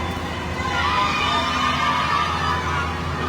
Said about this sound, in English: Citizens are cheering the president.